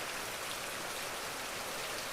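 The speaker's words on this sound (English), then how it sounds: "Right now it's raining lightly. You can hear it, right?" Light rain falls steadily outdoors near the Bosque, a dense, even patter and hiss with no breaks or voices.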